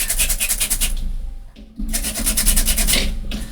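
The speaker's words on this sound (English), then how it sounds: "I'm just going to give this a good sanding to distress it up" Steady rhythmic rasping of sandpaper rubbed back and forth over craft paper to distress it, close up, with a brief pause midway before the scrubbing resumes.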